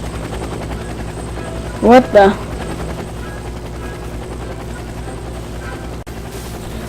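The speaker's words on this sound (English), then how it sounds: "A toy helicopter." A toy helicopter in the video game Twilight Phenomena 2 gives off a steady whirring rotor drone throughout, with a short spoken exclamation over it near the start.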